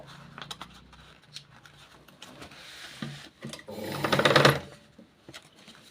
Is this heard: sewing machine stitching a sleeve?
yes